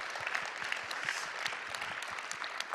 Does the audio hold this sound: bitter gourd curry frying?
no